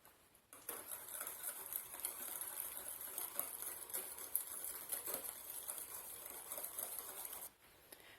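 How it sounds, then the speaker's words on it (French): A whisk beats dairy-free, eggless pear flan batter with flour in a steady, fast, light rattling patter that runs continuously for several seconds, close and fairly quiet, with no talking. "C'est important de bien fouetter avec le fouet pour ne pas avoir, il faut vraiment que la texture soit lisse"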